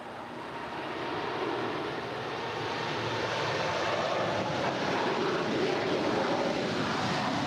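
A Boeing 747 freighter, an Atlas Air jet flying for Qantas Freight, rolls down runway 25 left at LAX. Its steady, loud broadband engine roar builds slightly and holds throughout, with no voices.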